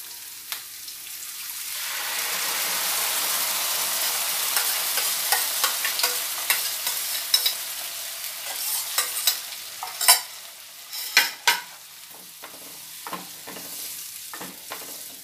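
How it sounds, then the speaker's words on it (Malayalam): Cooked, mashed dal stirred into chillies frying in a pan for special pepper dal: a steady sizzle, then scraping and stirring that grows louder and more clattery toward the end. "ഇനി നമ്മളിതിലേക്ക് ഈ ദാൽ നന്നായി വേവിച്ചുടച്ച് കലക്കിയെടുത്തത് ചേർക്കാൻ പോവുകയാണ്."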